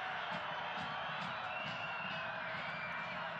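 Stadium crowd at a professional soccer match between Las Vegas Lights FC and Phoenix Rising FC, a steady dense roar of many voices with faint whoops, continuous and enveloping throughout.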